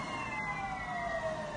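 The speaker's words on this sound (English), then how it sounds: "here comes a fire truck" A fire truck siren sounds as the engine passes, a steady wailing tone sliding slowly downward, loud and fairly close for a moment with no talking.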